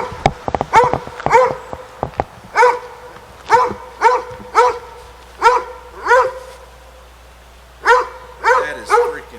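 A small dog barks at a visitor inside a paranormal museum, giving repeated sharp yaps in irregular bursts, close and loud, with a few faint voices early on.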